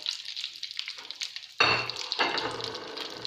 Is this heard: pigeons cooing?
no